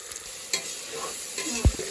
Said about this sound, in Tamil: பொன்னிறமாக வதக்கிக்கணும் வெங்காயத்தை